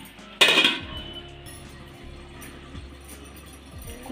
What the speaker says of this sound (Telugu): మూత పెట్టుకుందాం.